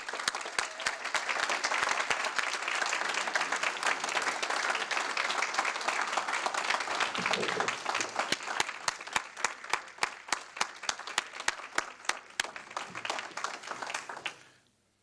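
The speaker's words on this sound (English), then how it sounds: "Please join me in giving him a round of applause for this achievement" A school board meeting audience gives a sustained round of applause, dense steady clapping filling the room for about fourteen seconds before it stops abruptly at the end.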